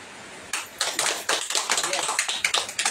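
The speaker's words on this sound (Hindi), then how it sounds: "तो चलिए इस चीज के लिए आप ताली बजा दीजिए।" An audience clapping at a religious talk on the light of God, a dense patter of many hands that starts abruptly and keeps a steady close rhythm, with a speaking voice underneath.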